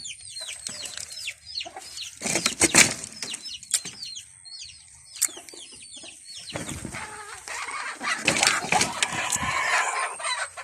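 A small flock of chickens, one hen and three roosters, feeding close by with sharp clucks, squawks and sudden bursts of flapping wings, the scuffling growing busier toward the end.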